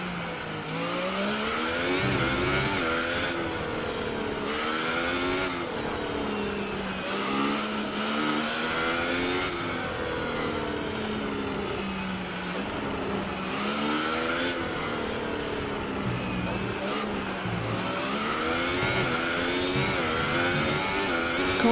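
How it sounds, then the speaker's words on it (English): A Formula-style race car in a video game racing league weaves to warm its tyres, its engine revving up and down in a steady rising and falling pattern, loud and continuous with no talk. "Warming up his tyres now."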